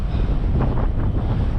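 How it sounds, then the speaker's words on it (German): Strong wind buffets the microphone while cycling on a cloudy, cool day in Denmark, making a loud, constant low rumble with gusty swells throughout. "und ja, fieser Wind hier."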